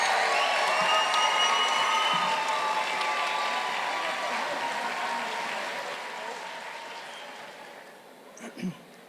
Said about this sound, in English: Please join me in a round of applause for all of the graduates